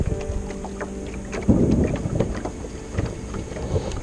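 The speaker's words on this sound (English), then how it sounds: "that storm's getting too close for comfort" Low rumbling thunder from an approaching line of thunderstorms, heard outdoors on the water near a boat ramp, a heavy roll about midway that swells then fades under steady wind noise.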